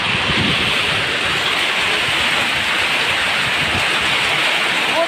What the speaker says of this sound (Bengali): প্রচুর পরিমাণের বৃষ্টি হচ্ছে আমাদের এদিকে।